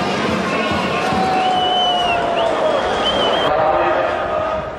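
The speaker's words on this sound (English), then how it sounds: "A noisy and passionate crowd has already gathered around the Royal Canal" Noisy, passionate crowd packed along the Royal Canal in Sete for the water jousting tournament, a steady loud roar of cheering with whistles and shouts.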